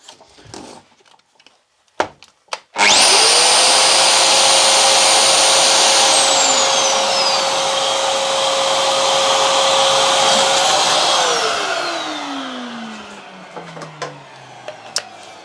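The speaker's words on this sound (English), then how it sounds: "Now plugged in my router, now that's 1400 watts" A 1400-watt router plugged into a shop vac's power take-off switches on after a few faint clicks and handling noises. A loud, steady whine holds for several seconds, then spins down, fading into quieter handling sounds.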